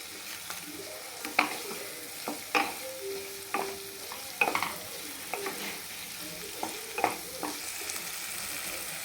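A spoon stirs potato gravy in a pan, with irregular scraping strokes over a soft sizzle, close and fairly quiet.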